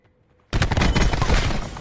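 Hip-fire gunfire in Black Ops 4: after half a second of near silence, a loud, continuous stream of rapid shots erupts and carries on close and dense to the end.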